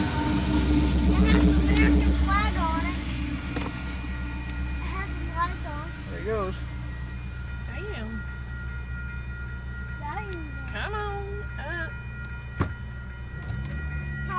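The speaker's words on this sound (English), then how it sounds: "That back engine is a Union Pacific" A Union Pacific freight train with engine 8657 at the rear rumbles past through St. Elmo, Illinois, a steady low roar topped by recurring wheel squeals and screeches, fading slightly toward the end, with a brief sharp clank near the close.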